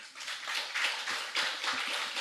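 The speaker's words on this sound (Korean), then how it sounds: "박수로 환영해 주시기 바랍니다" A church congregation claps in welcome during a Sunday service, a steady, fairly soft wash of hand claps swelling and easing slightly over a couple of seconds, with no talking.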